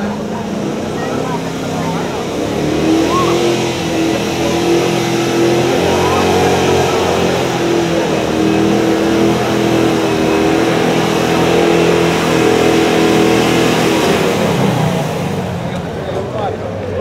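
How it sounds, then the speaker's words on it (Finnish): A tractor engine roars loudly during a tractor pulling contest, revving and straining steadily for the whole stretch, with an announcer's voice over it. "hienosti tuli Juhonkin traktori ja äänet olivat yhtä komeat tässäkin"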